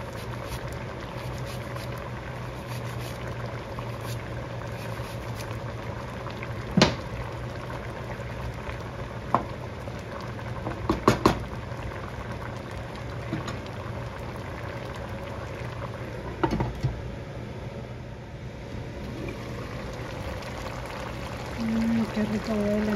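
Onion strips added to pork cooking in a pan, giving a steady, quiet bubbling and simmering with a few soft clinks. Someone speaks over it in Spanish.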